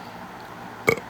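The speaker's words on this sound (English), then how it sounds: "Trying to burp." A short single burp bursts out near the end after a stretch of quiet room tone, brief and close.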